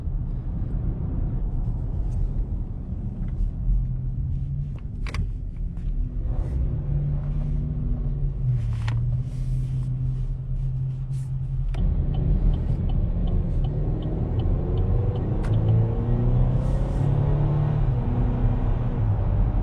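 Chevrolet Traverse RS with a four-cylinder engine runs with a steady, low rumble and a faint tonal hum, shifting slightly in character partway through, with no voices.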